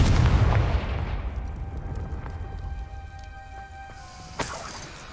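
Blasting spells in the Hogwarts Legacy video game, a heavy booming burst that fades into rumbling debris, faint ringing tones, and a sharp crack near the end.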